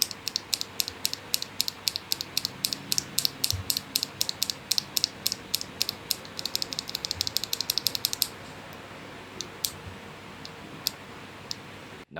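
A GMK67 mechanical keyboard being typed on: rapid, crisp clicks and clacks of its switches in a fast steady run, close and fairly quiet, thinning to a few scattered keystrokes near the end.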